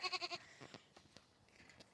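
Female goats on a homestead milking area bleat close by: a rapid pulsing burst of calls, then softer scattered sounds and light bumps, no talking.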